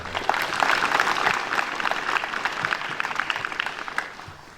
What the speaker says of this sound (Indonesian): tepuk tangan dulu buat adik-adik sekalian